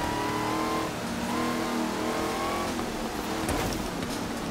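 Simulated car engine from Forza Horizon 3 revving hard with a supercharger whine, pitch climbing and dropping through gear changes, loud and continuous with no talk.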